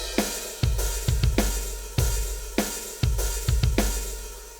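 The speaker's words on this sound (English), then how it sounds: "the cymbal is going to be an edge hit for a nice big washy crash sound." Positive Grid X Drummer programmed rock drum groove with kick, rimshot snare, open hi-hat and edge-hit crash cymbal, a punchy repeating pattern with washy cymbal sustain, close and loud without voices.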